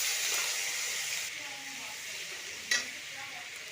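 Tomato paste sizzles in hot oil in a pan, a soft steady hiss that fades slightly, with a brief clatter near the end.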